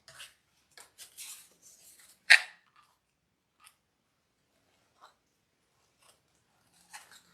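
Scissors cutting a dovetail into wreath ribbon, a cluster of close crisp snips followed by a sharper louder cut, then sparse faint clicks in a quiet room.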